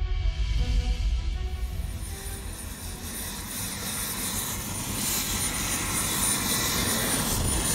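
A helicopter roars nearby on the Hudson Bay coast, its engine and rotor drone loud and steady, the noise thinning slightly then building again.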